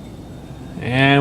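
Twin jet engines of a Phenom 300 in X-Plane 12 spool up toward takeoff power, a rising tonal whine that swells quickly and grows loud at the end.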